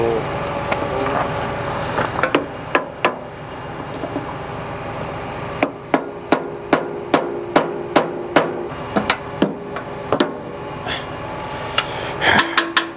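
A hammer strikes metal farm equipment out in a cornfield, delivering a long run of sharp, loud, evenly spaced blows with a few irregular clanks in between, while people talk and move nearby.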